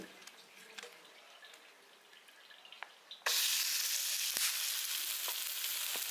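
Food roasting on a pan, heard as a faint sizzle that jumps to a loud, steady frying hiss halfway through, with a few sharp pops and drips over it.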